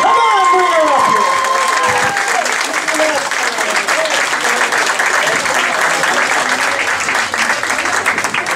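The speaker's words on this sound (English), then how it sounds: "I'd like a big hand, please, for Nicki Mattsson!" Loud audience applause and cheering at a live comedy class show welcoming Nicki Mattsson to the stage, a dense roar of clapping with shouts and whoops on top, a voice heard briefly at the start.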